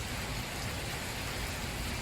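Steady heavy rain falling during the wet season, a dense continuous hiss of drops on surfaces, loud and even throughout with no voices.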